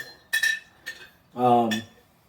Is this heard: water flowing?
no